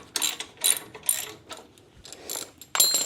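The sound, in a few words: ratchet with 16mm socket on Jeep tow bar bracket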